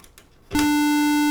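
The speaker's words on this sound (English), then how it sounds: "So there's our sine wave." A steady, pure sine tone from a Verbos Complex Oscillator synthesizer module switches on abruptly after a short hush and holds loud and unwavering to the end.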